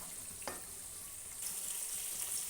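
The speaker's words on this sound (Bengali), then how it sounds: "মশলাটা সমেত ঝিঙে আর আলুটাকে ভালো করে একটু ভাজা ভাজা করে" Ridge gourd and potato with spices frying in a pan, a faint steady sizzle with a brief stirring scrape near the start.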